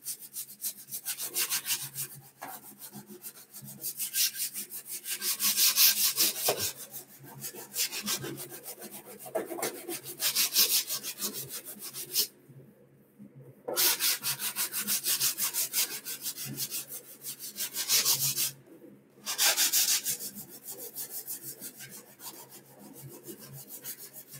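Sanding block rubbing over a filled foam model airplane, a Freewing F-14 Tomcat, giving long rough back-and-forth scraping strokes in steady bursts with two brief pauses, close and fairly loud with no talking.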